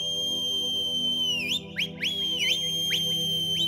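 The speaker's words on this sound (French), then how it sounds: "La foule, à l'unisson, lui a répondu par d'autres sifflements." A crowd whistles in unison in a large hall: a sustained high whistled tone with several quick rising and falling whistle swoops layered over it, over a steady low drone, no talking.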